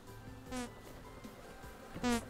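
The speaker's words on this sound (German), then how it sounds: "Damit sich auch wieder die Bienen ansammeln oder" Bees buzzing around a skep in Vintage Story: two short, quiet insect buzzes pass close by, with faint ambient game sound in between.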